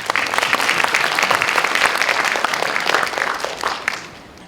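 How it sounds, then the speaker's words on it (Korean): An audience at a youth village program briefing gives a round of applause, full and steady clapping from a crowd in a hall that holds strong before tapering off at the end. "청년마을에 대해 자세히 발표해주신 새 대표님들께 다시 한번 큰 박수 부탁드립니다."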